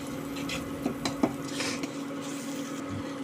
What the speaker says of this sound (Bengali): মশলাগুলো খুব ভালো করে নাড়াচাড়া করে নেব